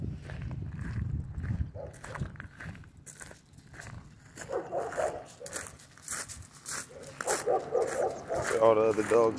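Dogs bark and yip in the distance around a Rottweiler pup out walking on a hunting outing, with someone talking over much of it and footsteps nearby.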